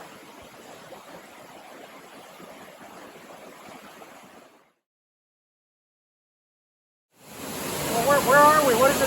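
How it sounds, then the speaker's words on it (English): A rainforest waterfall rushes as a steady broadband roar. It cuts to near silence for a few seconds, then returns louder and closer. "What is the name of the waterfall?"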